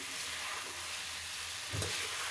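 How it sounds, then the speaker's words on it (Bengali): Chicken being fried with ground spice paste for a red curry, a soft steady sizzle with a stirring scrape and thump near the end, close and fairly quiet. "এখন এভাবে আস্তে আস্তে করে কষিয়ে নেব মাংসকে সুন্দর করে"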